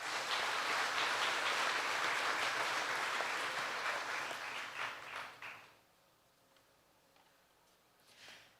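Dense crowd applause at a Choctaw Nation princess pageant, loud and sustained for about five seconds before tapering off into a quiet room.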